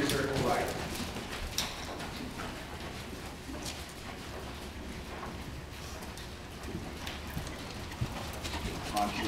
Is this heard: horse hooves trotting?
yes